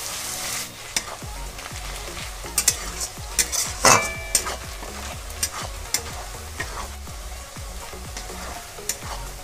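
Onions frying slowly in a pan over a low-to-medium flame, a steady sizzle broken by repeated spatula stirs and scrapes with a few sharper clinks, no voices.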